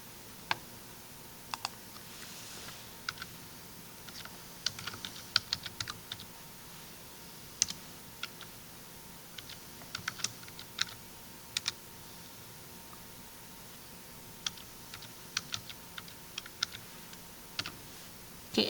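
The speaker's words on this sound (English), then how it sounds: "let's type this in and see what we get" Quiet computer keyboard typing, scattered light clicks in short bursts over about eighteen seconds as numbers are keyed in for a surface area calculation, close and alone with no talk.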